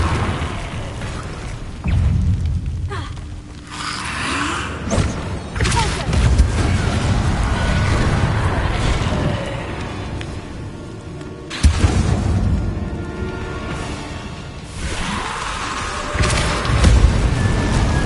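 Repeated booming spell blasts from the Confringo fire spell in Hogwarts Legacy gameplay, several loud bursts over dense game music and effects, with a sharp explosion standing out near the middle.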